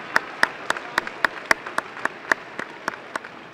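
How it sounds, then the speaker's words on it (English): Sparse, distinct handclaps from a small audience at a youth enrichment day event, spaced in an uneven rhythm rather than a full ovation, moderately loud and close. "Please give these folks a round of applause for their work as well."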